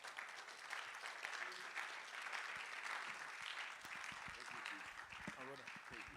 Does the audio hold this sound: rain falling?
no